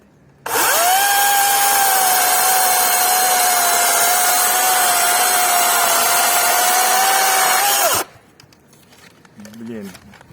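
A DeWalt cordless saw whines at a steady high pitch for about seven and a half seconds while cutting a branch roughly 22 mm thick, loud and close, then winds down; voices follow briefly afterward.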